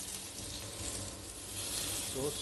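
Salmon fillets fry in oil in a pan, giving a close, steady crackling sizzle that swells slightly near the end.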